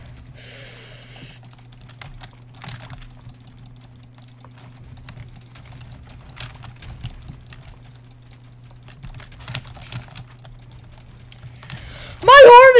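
Rapid clicking and keyboard typing during a live-streamed minigame session in Islands, a steady patter of key and mouse clicks over a constant low hum, ending in a loud burst.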